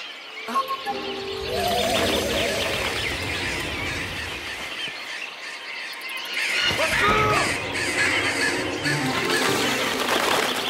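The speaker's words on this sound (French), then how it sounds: "Ces oiseaux sont tellement nombreux qu'ils nous cachent le soleil!" A huge cartoon flock of birds calls together in a dense, chattering, squealing chorus that swells and fades and then swells again, with no speech.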